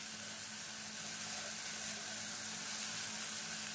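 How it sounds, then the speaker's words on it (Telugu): Okra pieces frying under a lid in a covered pan, a steady soft hiss of sizzling oil running evenly and alone throughout. "మూత పెట్టి మగ్గించడం వల్ల చాలా చక్కగా ఫ్రై అవుతుంది ఫ్రెండ్స్."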